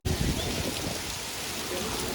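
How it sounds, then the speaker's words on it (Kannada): Heavy rain pours near a beach by Bekal Fort in Kasaragod, Kerala, as a dense, continuous rush of drops hitting surfaces close by. "ಮಳೆ ನೋಡಿ ಹೆಂಗೆ ಬೀಳ್ತಾ ಇದೆ ಜೋರು ಮಳೆ"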